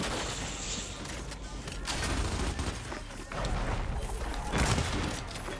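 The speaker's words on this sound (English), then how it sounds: "He's sniping me." Sniper rifle shots ring out in the video game Gears 5, dense bursts of gunfire and impacts repeating over steady game noise and background chatter.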